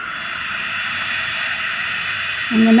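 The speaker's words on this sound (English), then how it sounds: "Now I'll grab my heat gun." A heat gun blows steadily for gold embossing on a papercraft project, giving a constant airy hiss and whine, with a brief lower tonal sound entering near the end.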